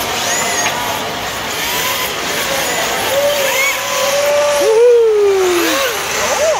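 A drifting car spins out at a Japanese custom car show, its tires squealing in rising and falling whines over a steady engine roar, with a long skid in the final seconds.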